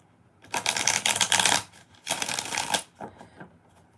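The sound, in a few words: shuffling tarot cards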